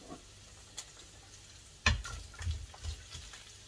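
Sliced courgettes dropped into a hot pan, a soft background sizzle with a sudden louder crackle as they land, then a few stirring knocks and bursts of frying.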